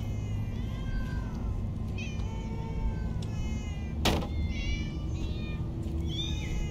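Repeated cat meows in the Minecraft Story Mode video game sound over a low constant hum, one clear cry after another, with a sharp bright clack around the middle and no one speaking.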